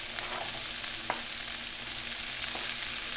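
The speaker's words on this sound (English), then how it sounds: "Put in that beef." Beef sizzling and frying as it is stir-fried in a hot pan, a constant crackling hiss with a few sharper pops and stirring clatters, close and alone without any speech.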